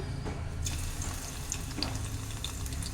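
Garlic cloves frying in hot oil for a tempering, a steady soft crackling hiss close by with occasional faint pops, no voice.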